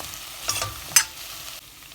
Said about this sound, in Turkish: Birlikte biraz kavuralım.